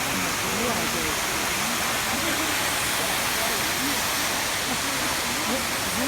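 Rushing water roars as a dense, constant wash of noise, steady and loud throughout.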